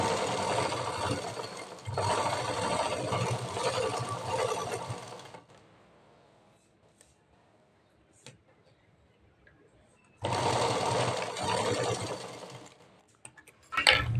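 A sewing machine stitches blouse fabric in two loud, fast, steady runs of close mechanical whirring separated by a quiet pause with light handling clicks.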